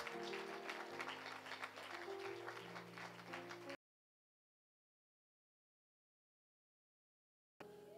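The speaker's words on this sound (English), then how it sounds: "Y'all give their hand clap of praise." A church congregation gives a hand clap of praise during a morning worship service, a dense wash of clapping over sustained keyboard chords for several seconds before cutting to silence, then briefly resuming.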